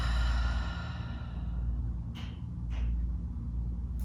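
A long, deep exhale released slowly through the mouth during a breathwork exercise, a soft airy breath close and alone over a steady low room hum.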